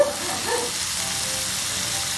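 Sliced mushrooms sizzle steadily in a hot pan during carbonara prep, a close, continuous frying hiss with soft stirring scrapes and no voices.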